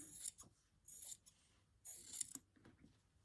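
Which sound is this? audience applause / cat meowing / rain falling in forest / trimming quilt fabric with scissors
trimming quilt fabric with scissors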